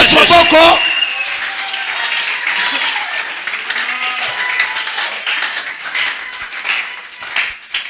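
A church congregation claps and cheers for the Lord, starting with a loud burst, then dense, steady applause and cheering that fades slowly over several seconds, with voices mixed in.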